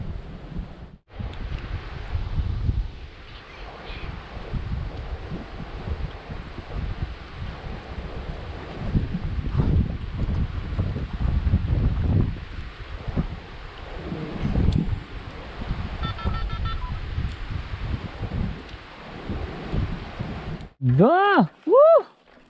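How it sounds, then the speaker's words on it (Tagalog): Strong gusts buffet a microphone on a mountain top reached by bike, a loud continuous roar that swells and eases, with brief voices near the end. "malakas naman yung hangin"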